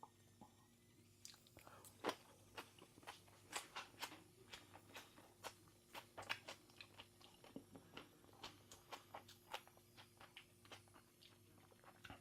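Crisp, crunchy chewing of a fresh onion and cucumber salad dressed with a spicy zero-fat dressing and grilled peach, heard as quiet, irregular bites and crunches close to the mic in a calm room.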